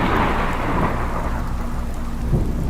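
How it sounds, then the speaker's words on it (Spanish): A storm's heavy rain pours steadily as rolling thunder rumbles through it, a dense continuous roar with no voices. "la tormenta se reanudó como antes, con un espectacular trueno que sorprendió"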